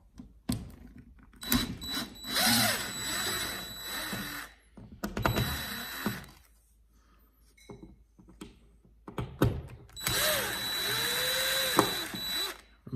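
A power screwdriver removes screws while a Google Nest thermostat is installed indoors, several whirring bursts of one to two seconds each, separated by quieter handling clicks.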